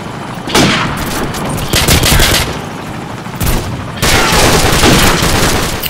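M40A3 rifle shots in Call of Duty 4, set among dense surrounding in-game gunfire: several loud, sharp bursts come and go across the stretch, with heavy clustered shooting near the middle and end.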